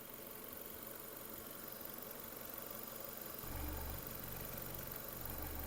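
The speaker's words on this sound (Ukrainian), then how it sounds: "Робота двигуна." A Renault Megane car engine idles steadily, recorded up close in a quiet setting with a low, even rumble that grows slightly heavier partway through.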